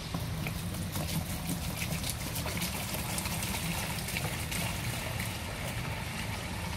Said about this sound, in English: what we'll do now is to pour the water in